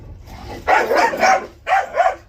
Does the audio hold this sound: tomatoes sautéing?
no